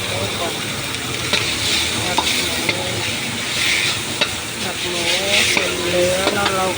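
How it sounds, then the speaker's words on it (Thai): Pork stir-fries in a pan for a Thai chili paste, with a steady sizzle and hiss under repeated scraping and stirring strokes of a spatula, close to the microphone. "ใส่หมูใส่หมูก่อน น้ำพริกออกเลยทุกอักกินน้ำพริกออกเราจะมาผัดน้ำพริกออกทุกคนนะ ผัดหมู"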